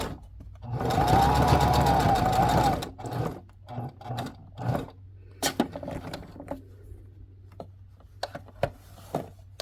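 A sewing machine stitches lace onto a fabric needlebook page, running in a loud steady burst for about three seconds, then falling to short, intermittent clicks and handling knocks.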